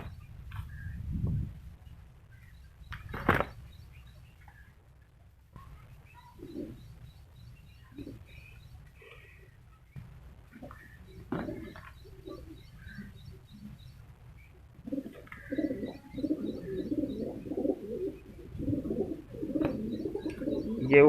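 Pigeons coo at a pigeon market in Multan, Punjab, Pakistan, soft low throaty coos repeating near the microphone alongside faint chirps and background bustle, with no talk over them.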